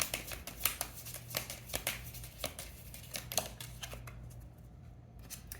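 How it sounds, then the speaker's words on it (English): Oracle cards are shuffled by hand during a tarot reading, making a rapid run of soft close riffling taps and flicks that stops near the end, with no speech. "Let's get some last oracle cards for this."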